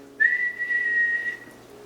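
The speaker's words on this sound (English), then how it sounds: "Think about sirens, alarm clocks, a whistle." Single steady high-pitched whistle lasting about a second, sharp onset and gentle fade, heard alone and close.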